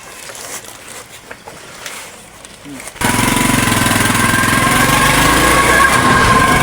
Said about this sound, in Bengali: আমরা এখন বাইক স্টার্ট দেবো